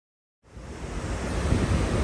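Steady wind roars and buffets against the microphone after a brief silence, a broad, constant rush with no voices, on the open aft deck of the P&O Iona cruise ship.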